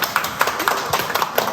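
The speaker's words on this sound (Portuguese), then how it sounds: "Uma salva de palmas para nós." A small group claps briefly, with irregular, fairly quick claps close by.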